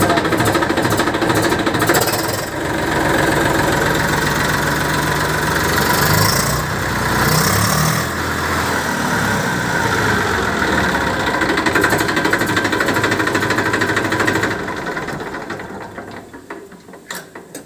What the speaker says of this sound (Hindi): किसान भाई, देखो छुट तो स्टार्ट हो गया ट्रैक्टर